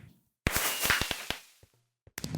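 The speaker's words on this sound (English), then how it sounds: "Stupid fireworks." Fireworks explode in a crafting video game, a sudden loud burst of sharp cracks and pops crowded together, fading into scattered snaps, then another short burst at the end.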